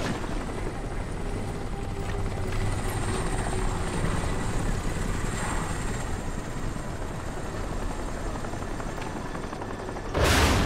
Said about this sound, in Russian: А, это вертолет тот же.